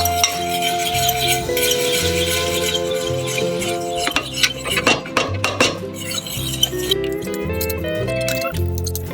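Couscous is stirred in a pot with utensils scraping and clinking against the metal, steady close clatter over a background of music.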